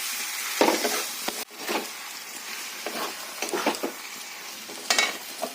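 Poppy seed paste fries and gets stirred in a pan, soft sizzling broken by a series of scraping spatula strokes and a sharp clink, fairly quiet with no speech.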